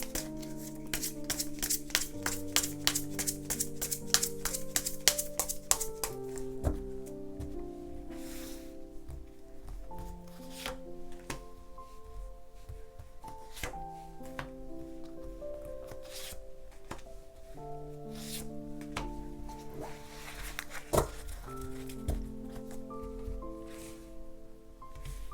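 Tarot cards shuffled and drawn in quick rustling riffles and soft slaps, close and quiet, set against a continuous soft musical background.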